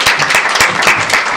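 Audience at an SPE Thailand section technical meeting applauding, a short burst of dense, fairly loud clapping from many hands.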